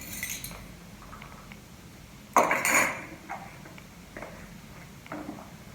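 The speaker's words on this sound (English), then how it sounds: "continue to whisk that in as this cooks over medium heat" A whisk works pumpkin pudding mixture in a pot over medium heat, making soft scraping and light metallic clinks against the pot, with one louder clatter in the middle.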